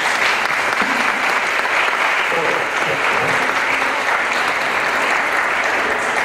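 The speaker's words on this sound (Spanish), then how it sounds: "Le demos un aplauso, Federico." Loud, sustained applause from an audience at a tribute event in Chiapas honoring Federico Álvarez del Toro, a thick continuous wash of clapping with faint crowd voices underneath.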